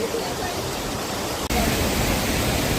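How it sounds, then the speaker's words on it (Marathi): Lingya waterfall at Lingyaghat in the Tamhini area rushes with a dense, steady roar of falling water that fills the scene evenly from start to end, with a brief dip midway. "लिंग्या वॉटरफॉल त्याचं हे विहंगम दृश्य डोळ्याचं पारणं फेडणार"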